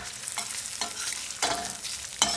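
Garlic toasts in a pan for ramen noodles with white wine and hot dog, a soft sizzle under several distinct scraping stirs at a slow, uneven rhythm.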